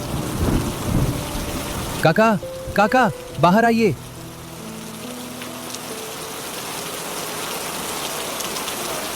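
Steady rain falling in a village, a constant hiss of drops on surfaces with a low rumble early on, while a man calls out over it partway through before the rain carries on alone.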